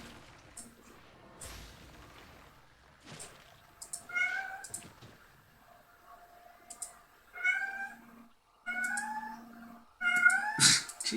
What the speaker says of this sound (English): cat, why do you sound so sad?